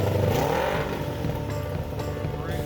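Go-kart powered by a Kawasaki Ninja 250 engine pulling away as the clutch is let out, a buzzing engine note that rises while the rear tires turn, heard close and fairly loud over a short stretch.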